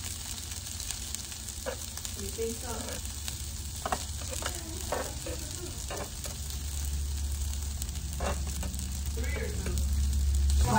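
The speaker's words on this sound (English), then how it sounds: "Y'all hear that sizzling?" Sausage and turkey bacon sizzle steadily on a Blackstone griddle, a constant crackling hiss close to the mic that grows slightly louder toward the end, with a brief voice speaking over it.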